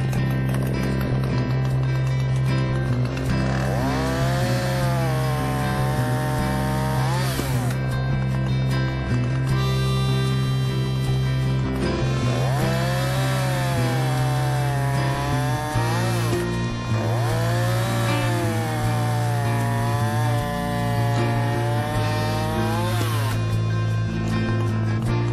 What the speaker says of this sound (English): Let me show you this with a running chain.